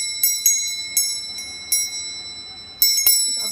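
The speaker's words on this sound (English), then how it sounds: "You got a bell." A small bell rung by a young child indoors, bright metallic dings struck irregularly, about seven rings with a couple close together, each ringing out briefly, close and clear without speech.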